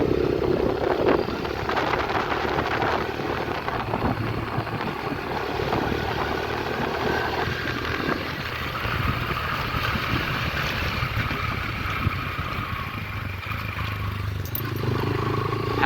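Steady drone of a 125cc five-gear motorbike being ridden in fourth gear, engine hum mixed with heavy wind rush across the microphone, continuous and fairly loud throughout.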